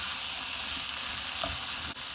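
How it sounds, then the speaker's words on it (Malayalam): Four chopped ripe tomatoes dropped into hot oil for mutton biryani, a loud, dense, steady sizzle that fills the whole moment close up, with a brief clack of utensil near the end. "ഞാനിതിലേക്ക് 4 തക്കാളി അരിഞ്ഞ് വെച്ചത്, നല്ല പഴുത്ത തക്കാളിയാണ്, അതോട് ചേർത്ത് കൊടുക്കുകയാണ്."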